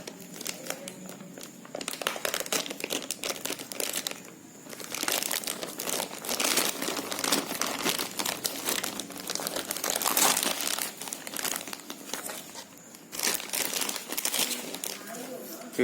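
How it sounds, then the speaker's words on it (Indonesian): Plastic packaging on a Netgear CG3100D router being pulled open and handled, with close, loud crinkling and crumpling bursts coming and going over about sixteen seconds while a person talks over it. "kita buka plastiknya."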